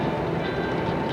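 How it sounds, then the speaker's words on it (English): A camcorder sitting on a car dashboard jostles up and down as the car moves. The result is a dense, continuous rumbling rattle, close and steady, with no pauses. "That's what happens when the camcorder bounces up and down on the dashboard"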